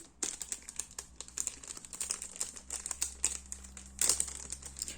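Plastic packaging crinkles and snaps as a small BTS Cinema pin is unboxed from an official fan club kit, a close, quiet run of irregular rustles and clicks with a sharper crackle near the end.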